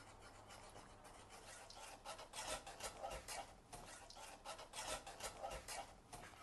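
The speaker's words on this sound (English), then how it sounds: "you're gonna gently whisk and combine all the ingredients together" Whisking barbecue sauce ingredients together, a soft, rhythmic scraping and rubbing of a whisk against a pan, repeated in quick strokes at low volume with no voices.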